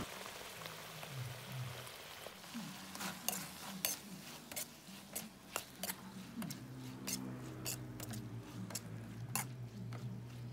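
Utensil scraping and clinking in a pan while stirring pineapple into a mussel curry, with a rhythm of sharp taps over a low sizzle, fairly quiet and close.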